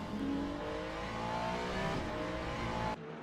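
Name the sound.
race cars at Fuji in Le Mans Ultimate video game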